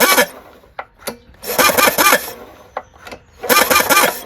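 A Kawasaki FC420V small engine with rusted, stuck valves being cranked over by hand, several loud grinding, rasping bursts of turning separated by short pauses and a few sharp knocks, all close up.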